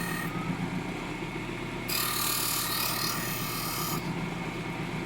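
Cockfighting gaff blades being honed, a steady harsh filing rasp that swells into a brighter, louder scraping stretch midway before easing back to a lower grind.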